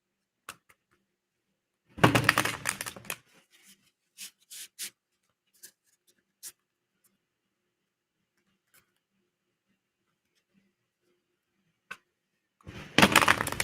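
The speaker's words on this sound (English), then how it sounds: "I'll go ahead and shuffle this deck" Tarot cards are riffled in a quick, crisp burst, followed by scattered soft taps and clicks, then another shuffle burst at the end.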